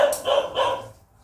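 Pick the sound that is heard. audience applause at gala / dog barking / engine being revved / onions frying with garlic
dog barking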